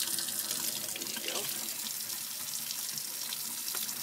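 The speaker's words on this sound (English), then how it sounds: "And we rinse it under the faucet here." Water runs steadily from a sink faucet as a circuit board is rinsed under it, a close, continuous splashing hiss with slight shifts as the flow is interrupted.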